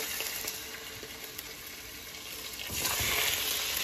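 Pieces of adobo-marinated pork cook in a pot over a flame with no water or oil added, giving a soft steady sizzle and hiss that swells louder near the end.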